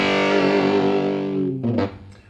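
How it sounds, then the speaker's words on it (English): A distorted, overdriven Roland EA7 keyboard chord rings out and decays into reverb, followed by a short gritty stab fading away. "A bit of overdrive, and again bring up the reverb on that."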